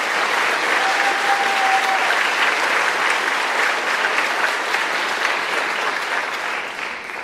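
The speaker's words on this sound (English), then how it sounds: "Please give them a round of applause." A school audience at a senior awards night gives sustained, even applause for foreign exchange students, a dense wash of clapping that stays loud throughout with a thin tone briefly audible early on.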